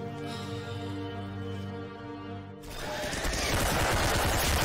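Gunfire from a shooter video game, starting as a sudden dense burst of rapid shots partway through and continuing loud and steady to the end, after a stretch of sustained tonal game music.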